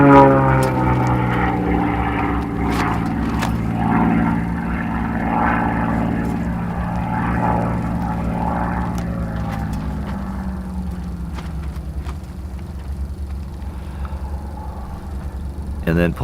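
A propeller aerobatic aircraft flies a tail slide at an advanced aerobatic competition, its engine drone rising and falling in pitch as the figure unfolds. A commentator talks over the sound throughout.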